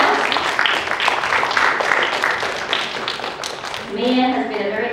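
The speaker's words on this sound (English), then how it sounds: "let's give her a round of applause" Audience clapping at a school assembly, a busy patter of many hands through most of the stretch, fading as a voice starts speaking near the end.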